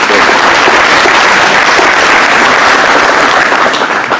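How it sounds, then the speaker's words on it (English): Loud, close applause from a room of attendees at a chamber-hosted civic event, a continuous dense clatter of hands holding steady for several seconds and tapering slightly at the end, with no speech. "Let's give them another round of applause."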